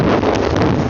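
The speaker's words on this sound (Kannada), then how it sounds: "ಏನ್ ಗುರು ಹಿಂಗ್ ಗಾಳಿ ಹೊಡಿತೈತೆ." Strong wind buffets the microphone on the summit of Mullayanagiri peak, a loud, steady roaring rush with no pauses, filling the whole second.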